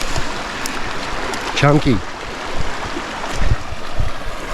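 A small creek runs over a little waterfall, a steady broadband rush of flowing water filling the background throughout, with a voice speaking briefly over it.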